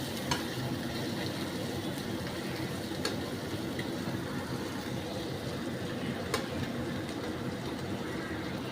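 Pointed gourd (potol) frying with spices in a pan, a steady low sizzle running unbroken throughout with faint stirring clicks here and there, no voices.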